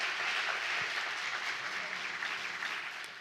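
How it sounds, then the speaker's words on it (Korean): Audience applause after lecturers finish at a Korean science forum, a steady wash of many hands clapping that holds evenly for several seconds and tapers slightly at the end. "오늘 열띤 강의 또 토론에 임해주신 세 분 교수님께 큰 박수 부탁드리겠습니다."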